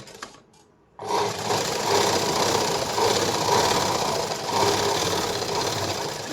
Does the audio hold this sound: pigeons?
no